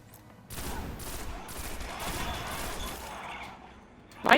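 Gunfire in a video game comes as a rapid burst of repeated shots lasting several seconds, then fading, with a sharp louder crack at the very end.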